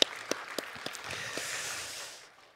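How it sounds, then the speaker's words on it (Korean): Church congregation clapping in encouragement for the choir conductor and accompanists, a few scattered claps first, then a soft, steady wash of applause that fades away over a couple of seconds. "힘내라고 우리 박수로 한번 격려해 주시면 좋겠습니다"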